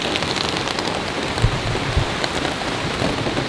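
Heavy rain pours down steadily after a sunny spell, a dense close hiss of drops on surfaces with a couple of louder patters, no voices.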